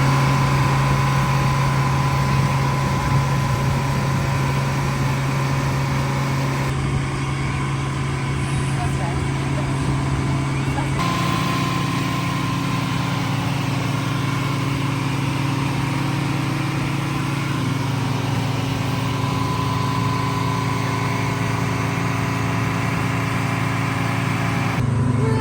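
A sailboat's engine rumbles steadily at idle, a constant low drone that shifts slightly in pitch, with people talking over it.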